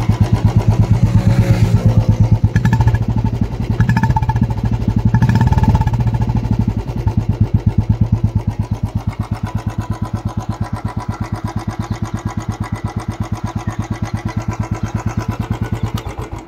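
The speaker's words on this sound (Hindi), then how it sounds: "देख सकते हैं किक भी आपको आसानी से पड़ जाएगा, या उसका साउंड सुन लीजिए आप" A Royal Enfield Bullet 350 BS6 motorcycle with an Indori aftermarket silencer kicks into life and settles into a steady, close thumping idle, its loud rhythmic beat running alone with no talk.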